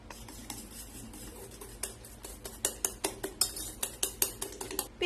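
Eggs and powdered sugar beaten by hand in a bowl, with a steady run of quick metallic whisk clicks and taps against the bowl that grow louder and more distinct toward the end, close and alone without talk.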